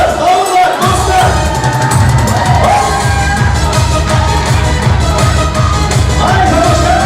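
Loud crowd noise from wedding guests at a dance contest, with whoops, yells and cheering over pounding rhythmic dance music.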